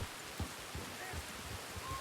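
Steady rain pattering across the open world in Red Dead Redemption 2, a soft continuous wash of falling drops with faint low thuds, heard alone without voices.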